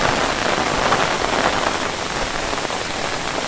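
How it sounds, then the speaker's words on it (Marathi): Steady, dense rain pours down on a hard surface in Konkan, a constant close hiss with no voices. "पावसाला सुरुवात झाली आहे मस्त एक असा पाऊस पडतं"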